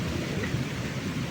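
During a storm, rain falls in a dense steady hiss under a low rumble of thunder, which sounds continuous rather than as a single sharp crack.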